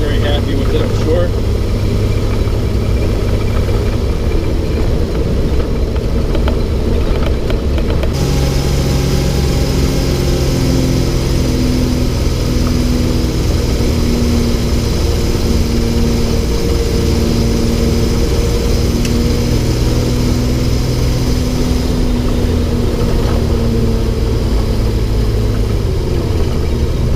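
A vehicle engine runs steadily throughout, a continuous low rumble that shifts pitch slightly partway through, with someone talking over it.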